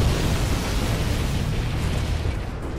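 A nuclear explosion in Command & Conquer Generals Zero Hour, a loud, dense, sustained roaring blast that rumbles on without pause for the whole stretch, slightly fading at the end.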